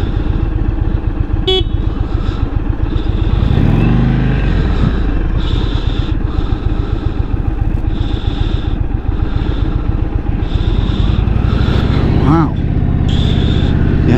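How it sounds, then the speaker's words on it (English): A 2022 Indian Super Chief Limited cruiser motorcycle engine drones loudly and continuously at high revs, with someone talking over it and a brief horn-like tone partway through. "Okay, pretty smooth at higher revs."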